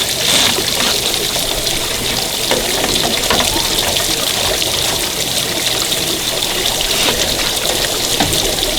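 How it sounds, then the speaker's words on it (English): Water sprays steadily from the holes of a gold trommel's spray bar, a dense continuous hiss and splatter with no pauses, close and fairly loud. "the water is coming out of the holes in the spray bar"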